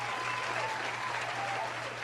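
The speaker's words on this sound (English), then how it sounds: "I want to give a well-deserved round of applause to my brother" Dense, steady applause from an audience at a lecture event, filling the room evenly without a break.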